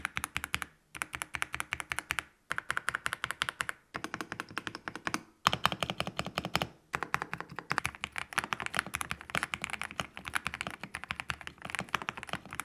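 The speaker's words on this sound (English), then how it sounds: "Overall, this keyboard sounds great, but don't take my word for it. Take a listen to the sound test." Fingers type quickly on a factory-lubed, plate-mounted mechanical keyboard, producing a dense run of crisp, close keystrokes broken by a few short pauses.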